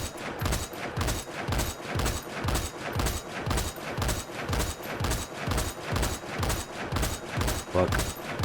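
A video game gun empties a full magazine in a steady, rapid string of sharp shots that repeat evenly at a constant rate for several seconds, loud and alone.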